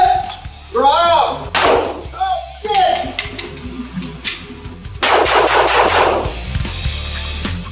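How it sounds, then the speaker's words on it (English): Handgun shots fired by a shooter wearing winter gloves during a concealed-carry drill, a few sharp loud cracks early on, then a rapid string of close, loud shots in the last seconds, with clanks between. "You can shoot with gloves on"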